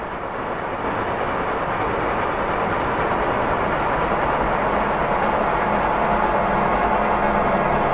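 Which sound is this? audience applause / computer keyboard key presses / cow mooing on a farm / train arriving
train arriving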